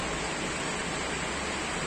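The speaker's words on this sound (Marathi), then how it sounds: "तर तुम्ही बघू शकता किती मुसळधार पाऊस पडतोय" Heavy rain pours down in Mumbai during Cyclone Tauktae, a steady, dense hiss that holds evenly for the whole stretch with no voices.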